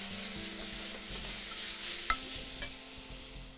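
Spinach wilting in a hot pan, seasoned with salt, pepper and lemon juice, giving a steady bright hiss of sizzling with a faint hum underneath and one or two small clicks, no voices.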